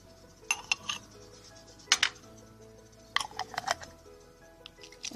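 Cloves in oil are stirred in a small pot, the spoon clinking against the sides in short, bright bursts separated by quiet pauses, with light ticking sounds in between.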